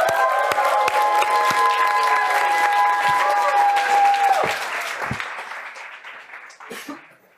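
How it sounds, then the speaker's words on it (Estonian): An audience at a stand-up comedy show claps loudly in a dense burst that continues for several seconds, then gradually thins and fades out, with a few scattered cheers and voices mixed in. "Teeme suure aplausi, kutsume lavale Aleksandr Popov."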